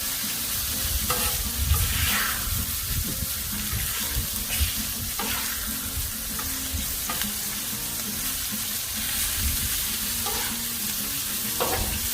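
Chicken fried chicken frying in oil on a Blackstone griddle, a steady crackling sizzle held close and loud throughout with occasional scrapes and pops, no talking.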